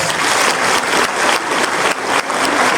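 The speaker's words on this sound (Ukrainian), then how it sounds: "Оплески ще раз." A dense wash of audience applause at a concert event, loud and continuous, with faint rhythmic swells suggesting the crowd clapping in time.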